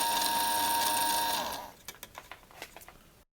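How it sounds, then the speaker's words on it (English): A small electric motor drives gear wheels with a loud, buzzing whine. It winds down after about a second and a half, followed by several quieter clicks and ticks from the gears before stopping. "we can take one of these gears out and slow the motor down so that we don't get the noise"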